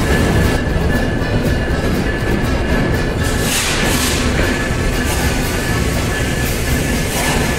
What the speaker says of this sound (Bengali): চলে আসলাম কমলাপুর রেলওয়ে স্টেশনে